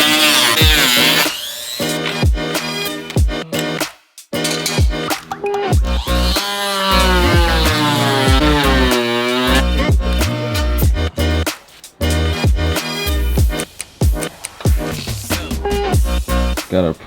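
A power tool cuts a section of a BMW 340i B58 for an intake install. It gives loud, close, whining bursts that rise and fall in pitch, broken by short pauses and sharp stops.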